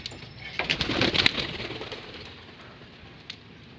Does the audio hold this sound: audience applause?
no